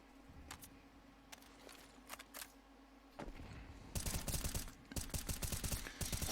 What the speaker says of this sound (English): Ponchek doing some serious work spraying through the smoke